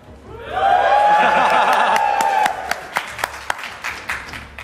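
A live audience at the EGX London 2014 gaming event cheering loudly in a sustained roar with whoops, then trailing off into scattered claps and voices.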